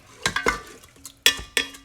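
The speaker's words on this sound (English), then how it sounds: "Stir up." A spoon clinking and scraping around a bowl while stirring a cilantro and lime mixture, several sharp close knocks in quick uneven succession with quiet gaps, no talking.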